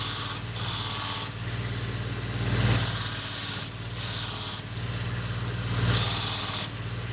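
A knife's chipped edge is ground to a new bevel a few degrees steeper on a powered grinder, a steady loud hissing rasp in several passes broken by short lifts, over a constant low motor hum.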